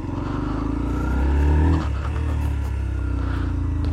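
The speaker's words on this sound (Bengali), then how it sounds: "এক্সস্ট নোটটাও খুব সুন্দর আছে।" Close by, a Yamaha FZ-S FI V4 150 cc motorcycle idles with a steady, low, pulsing exhaust note. It gives one brief rev that swells and falls back to idle, with no voices.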